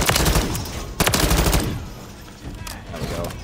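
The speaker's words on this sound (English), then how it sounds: "I'm shooting at the legs" Weapons fire at zombies in Modern Warfare 3 Zombies: loud, close bursts of rapid automatic gunfire in quick volleys, with brief lulls between them.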